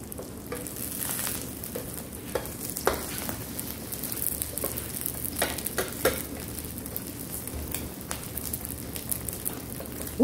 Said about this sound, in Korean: 오징어가 하나도 안 튀어나오죠?